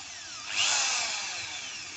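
An electric drill spinning in reverse whirs steadily, its motor pitch swelling as it spins up, then holding a loud, continuous whine with no talking.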